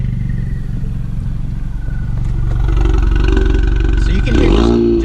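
A tuned 2018 Ford Mustang EcoBoost with a 10-speed automatic, parked outdoors in a park, starts up. A deep, loud low rumble idles steadily, then the engine note shifts and swells toward the end.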